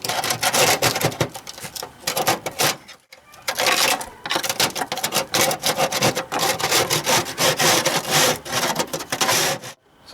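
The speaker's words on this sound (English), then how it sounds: "you're going to take a little scraper and you're going to scrape off any dirt that's stuck on" A small hand scraper works stuck dirt off an attic vent in repeated close, loud rasping strokes, with a short pause near the three-second mark before the scraping resumes.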